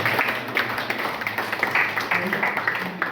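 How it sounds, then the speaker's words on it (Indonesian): A seminar audience at a national manuscript seminar at a university hall applauds steadily with dense, continuous clapping that holds through the whole stretch at a moderate, close level, with faint voices underneath. "tepuk tangan untuk semuanya"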